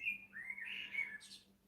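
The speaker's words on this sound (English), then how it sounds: "the birds are very pleasant" A single bird whistles a short, bright, wavering call outside a temple, faint and fairly distant, with no talk.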